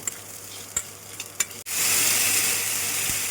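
Broken red chillies and fenugreek seeds frying in about one and a half spoons of oil for a South Indian fenugreek chutney: a few light clinks, then a loud, steady close sizzle that swells and holds.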